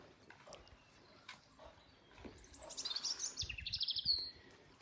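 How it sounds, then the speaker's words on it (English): A blackbird calls from trees in a garden, soft scattered chirps building to a clearer, louder warbling phrase near the end, heard alone and a little distant. "the beautiful blackbird as well, in behind in the trees, calling away"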